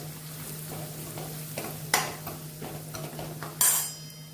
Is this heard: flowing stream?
no